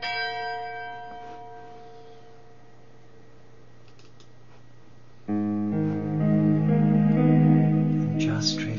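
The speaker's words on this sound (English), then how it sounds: "let the sound of the bell reawaken the spirit of the ancients within your being" Church bell rings out with long, sustained resonant tones that fade slowly, then a louder, richer strike blooms and hangs in reverberant air, accompanied by a faint steady hum.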